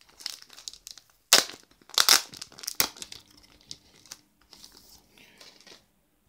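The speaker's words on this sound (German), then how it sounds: "Da holen wir es erstmal aus der Folie raus." Plastic wrap is peeled and crinkled off a CD single at close range, a few sharp crackling tears followed by softer rustling, no one speaking.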